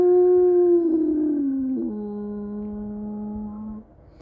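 A person imitates a wolf howl, holding one long smooth tone that slides gently downward, then steps down to a lower pitch and holds it before stopping. The voice is close and clear, with no other sounds.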